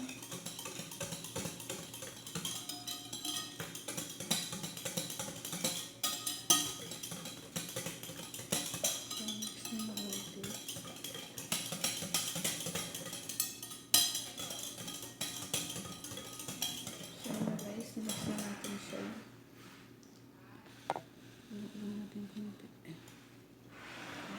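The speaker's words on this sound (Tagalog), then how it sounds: "So, i-mix na natin siya." Spanish bread dough being mixed in a bowl: continuous scraping and clinking of a utensil against the bowl, with voices talking over parts of it, then quieter near the end.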